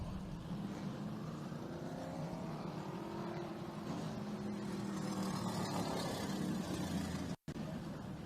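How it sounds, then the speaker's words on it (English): NASCAR Whelen Modified race cars run at Riverhead Raceway, a loud continuous engine drone with shifting pitch as cars circulate, sustained throughout with a brief dropout near the end. "cars have been fired back up."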